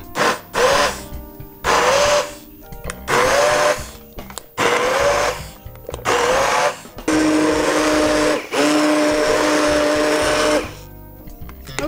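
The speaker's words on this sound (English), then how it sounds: "You could use a blender." A blender purees hot soup in loud bursts, starting and stopping several times with a whirring motor whose pitch shifts as the contents churn.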